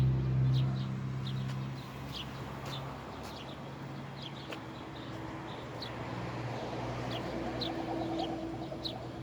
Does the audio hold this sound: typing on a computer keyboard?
no